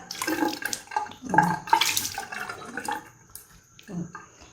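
Water splashes and runs in bursts as a face is rinsed by hand at a sink, close and fairly loud, with brief pauses between handfuls.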